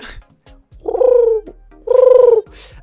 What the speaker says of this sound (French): son de pigeon s'il vous plaît